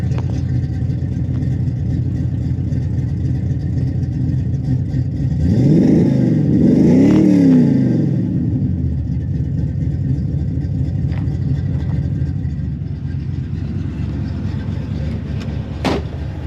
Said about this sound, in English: Definitely sounds like the engine's had work done to it.